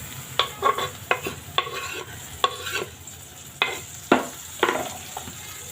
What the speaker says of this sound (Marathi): तर टोमॅटो पण छान परतून घेऊ।